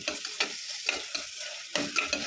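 Onion and tomato frying with turmeric for a vegetable kurma, stirred in a pan: a soft sizzle under a run of quick, uneven scrapes and clatters from the spoon, fairly close.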